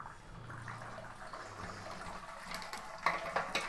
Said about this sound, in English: Just let it drain as you go, because it's the water, so it's really heavy.